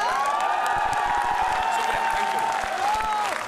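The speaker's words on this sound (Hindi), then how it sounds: "सब लोग खड़े होकर जोरदार तालियां" Audience at a Hindi poetry recital honouring martyrs rising to its feet and applauding loudly, a dense sustained roar of clapping with cheers and whoops, while a voice carries on above it.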